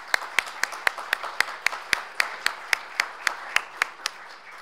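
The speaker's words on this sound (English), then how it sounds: "So let's give them a round of applause." Sparse, evenly timed claps ring out at a lecture event on the economic crisis, sounding like only a few hands clapping rather than a full crowd, crisp and moderately close.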